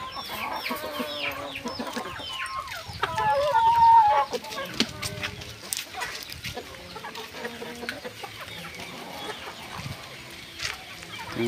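Several chickens, including a giant Indian gamefowl crossbreed, cluck and chatter nearby in irregular bursts, with a brief louder squawk partway through and soft background farmyard noise.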